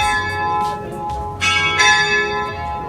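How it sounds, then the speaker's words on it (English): A church bell rings out among the old streets of Sion, Switzerland, its bright resonant strikes repeating and overlapping in a loud, sustained peal. "so it's dinging a bell for something"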